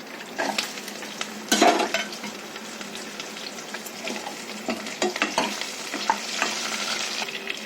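Onion, dried chillies and garlic fry in a pan with a steady sizzle. A sharp metal clank comes early, then scattered spoon scrapes and stirring through the rest, with no one talking.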